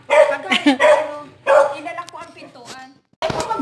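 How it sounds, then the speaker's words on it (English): A dog barks in several close, loud bursts with whiny yelping tones, pausing briefly between volleys, with no talk over it. "That dog is always mad."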